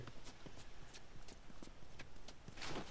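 Footsteps in The Last of Us multiplayer match tap out a quick, faint rhythmic series of soft impacts, with a brief louder scuff at the end.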